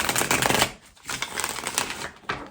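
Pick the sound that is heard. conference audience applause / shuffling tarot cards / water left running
shuffling tarot cards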